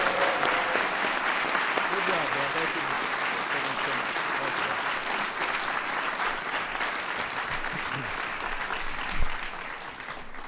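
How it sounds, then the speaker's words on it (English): A room full of guests at a White House event honoring the San Francisco Giants, the 2014 World Series champions, gives sustained loud applause for about ten seconds, with a few people talking briefly over it. "Everybody give a big round of applause."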